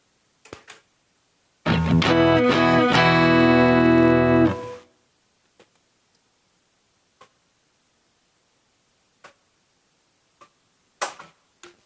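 A Caline C300 guitar effects pedal plays a bright, sustained chord processed with reverb, ringing for about three seconds and decaying, followed by scattered faint clicks and taps.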